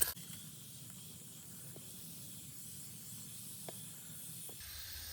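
A watering wand on its lowest mist setting sprays a potted Chicago Hardy fig, giving a faint steady hiss that runs on without a break and shifts slightly near the end, alone with no talk.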